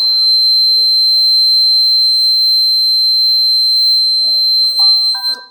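A homemade gas leak detector triggered by lighter gas sounds a shrill, steady buzzer tone that holds unbroken for several seconds, with a short beeping pattern at the end.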